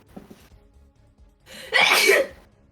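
A single loud, close sneeze, preceded by a short sharp inhale, with quiet background noise around it.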